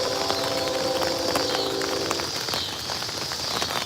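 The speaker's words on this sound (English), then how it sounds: "while we're waiting for the rain to go away" Rain falling outdoors during a storm on a fishing outing, a dense, steady patter of drops on surfaces filling the whole stretch with no talking.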